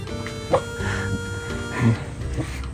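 A dog gives a couple of short, sharp barks nearby, spaced about a second apart, over a murmur of background voices.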